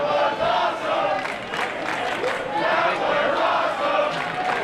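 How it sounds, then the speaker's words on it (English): A Junction City Wrestling crowd roars and yells wildly at a steel cage match, with loud, surging waves of cheering and shouts that fill the arena throughout. "The crowd going wild for these two athletes in the ring here"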